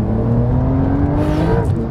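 A Porsche 911 Carrera 992 pulls hard through a tight corner, its engine droning steadily and rising slightly in pitch, loud and close for under two seconds.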